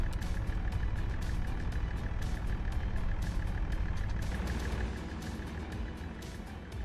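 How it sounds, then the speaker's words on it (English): A steady, low engine rumble of a video game tractor drones continuously, with a faint rhythmic ticking, easing slightly in loudness near the end. "Oh, I love the sound of this tractor."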